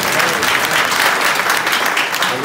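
A church congregation at a mission service claps together in loud, sustained applause, dense rhythmic clapping from a crowd filling the whole moment.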